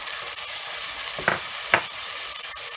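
Ginger, garlic and onion paste with tomato fry in oil for a Murray cod fish curry, a steady close sizzle broken by two brief spoon scrapes as the mixture is stirred.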